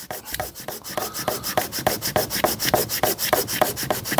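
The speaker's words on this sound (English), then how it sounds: "Just keep it flat, just go backwards and forwards. Gets all the old gasket residue off." Rhythmic back-and-forth scraping as old gasket residue is rubbed off a soft aluminium carburettor face on a Morris Minor, steady strokes about every third of a second, close and fairly loud with no talking.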